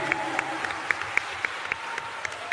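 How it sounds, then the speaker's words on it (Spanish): A standing audience applauds arriving heroes at a gathering, with sharp claps landing in a steady regular rhythm over a soft crowd murmur. "recibámoslos de pie con un aplauso a nuestros héroes"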